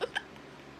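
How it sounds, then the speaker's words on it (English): Two quick, close burps about a tenth of a second apart, short and throaty, with no talking over them. "I got the burps."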